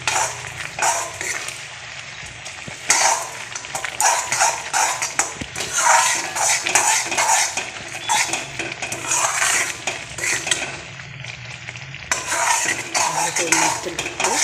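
A sesame mixture for til chakki being stirred and fried in a pan on low heat: busy, continuous scraping and clattering of a spoon against metal with a faint sizzle underneath, no talking.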